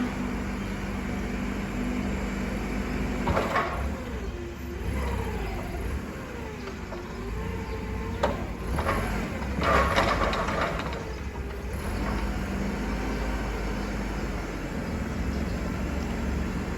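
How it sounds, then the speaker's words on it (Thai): A Toyota 02-8FG20 forklift with a petrol/LPG engine idling steadily, a low mechanical drone with brief rises and clatter as it revs slightly, fairly close. "เครื่องยนต์จะเป็นเครื่องยนต์เบนซินนะคะ เป็นแก๊ส LPG เนาะ"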